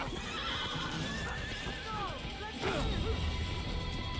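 A horse whinnies amid clattering hooves and crashing sounds in Assassin's Creed, with a busy, dense mix throughout.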